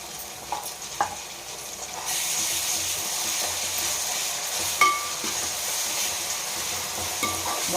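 Ginger garlic paste fries with half-browned onions for a Nellore-style fish curry. A steady hiss grows louder partway through, with occasional metallic clinks and stirring scrapes close by.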